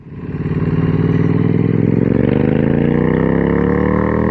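A Triumph Street Twin 900 motorcycle engine revs up loudly and close, its pitch climbing steadily as it accelerates.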